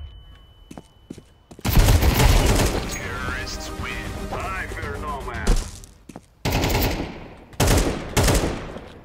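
Counter-Strike 2 gunfire, several loud sharp shot bursts and clatters in a match, spaced irregularly with quiet gaps between, mixed with game sounds and voices talking.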